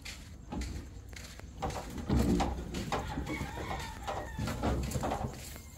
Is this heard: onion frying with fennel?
no